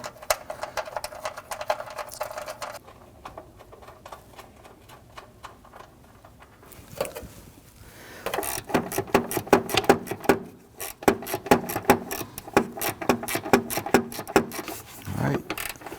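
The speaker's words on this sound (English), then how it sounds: "we're going to now go ahead and install the 2 8mm bolts" Ratchet wrench driving two 8mm bolts into the fender liner of a 2010-2019 Ford Taurus 3.5L V6, fast rapid clicking in close bursts separated by a quieter pause, with a few clunks at the end.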